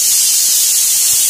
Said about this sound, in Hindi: गैस बंद कर देते हैं, तड़का का सब्जी बना रहे हैं।